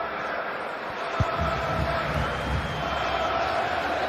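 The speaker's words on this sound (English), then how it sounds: "Well, just listen to this crowd." Stadium crowd noise in the football video game FC Mobile 26 during a World Cup quarter-final, a loud, steady roar of massed fans with a single sharp thump early on, continuous throughout.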